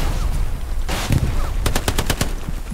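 Gunfire in the World War II shooter Hell Let Loose, with a few scattered shots followed by a rapid burst of sharp, close rifle or machine-gun cracks over a low battlefield rumble.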